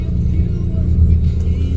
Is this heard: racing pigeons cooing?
no